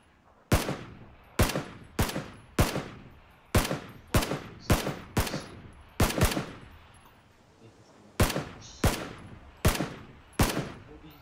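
Gunfire from the PUBG battle royale game: a long string of about fifteen loud, sharp single shots at a fairly steady rhythm, emptying a full magazine, with no talk over them.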